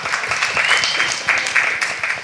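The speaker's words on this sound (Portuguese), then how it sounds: "Você pode dar um aplauso a Jesus?" A church congregation applauds during a Sunday celebration service, with dense, steady clapping from many hands filling the room loudly throughout, and no speech over it.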